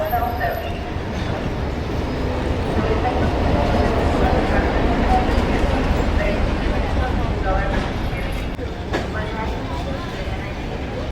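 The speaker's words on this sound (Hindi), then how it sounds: "ए लो जी, आ गई अपनी ट्रेन।" A passenger train pulls into a station platform in Kazakhstan, a loud rumbling and rolling clatter close by that swells and then eases, with people talking over it.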